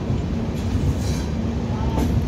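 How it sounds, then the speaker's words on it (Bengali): The Bikaner-Kolkata Pratap Superfast train rolling into Bharatpur Junction, a loud continuous rumble of carriages and wheels on track heard from on board, steady and close with a faint rising squeal near the end. "আমাদের ট্রেন এখন ঢুকছে ভরতপুর জংশনে"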